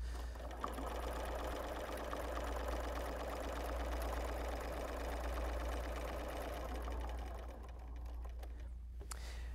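A sewing machine runs continuously during free motion quilting, a quiet, even mechanical buzz with a low hum beneath that stops abruptly near the end.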